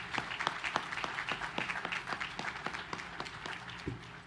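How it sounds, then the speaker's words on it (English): Applause at the commissioning ceremony of the destroyer USS Jack H. Lucas (DDG 125), heard as fairly faint, thin clapping with distinct individual claps over a soft crowd wash, continuing steadily throughout. "So a big round of applause to everybody here and on the internet watching."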